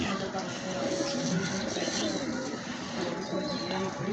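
An old breeding pigeon coos softly in a low, steady murmur against a busy, noisy background, with voices mixed in.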